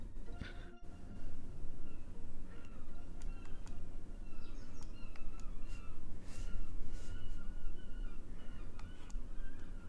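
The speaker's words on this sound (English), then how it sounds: "could you hear the seagulls?" Seagulls calling somewhere in the southwest, with repeated harsh caws over steady outdoor background noise, moderately near and fairly loud across the whole stretch.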